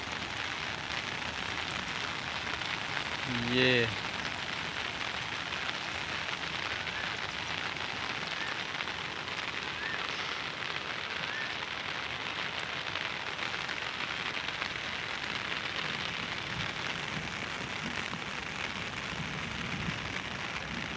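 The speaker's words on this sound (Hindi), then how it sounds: "ये मूसलाधार बारिश हुई है" Torrential monsoon rain pours steadily by the Rind river, a dense, even hiss of downpour that holds for the whole stretch, with one short voice near the start.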